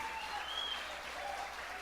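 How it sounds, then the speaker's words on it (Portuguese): A church congregation applauds during a worship service, a soft, distant wash of many hands clapping steadily, with faint tonal sounds drifting above it. "Eu quero que você aplauda Jesus mais uma vez."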